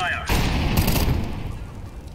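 A thrown fire grenade in CS:GO bursts into a loud, dense roar that starts abruptly and then stays steady, with a voice briefly heard at the start.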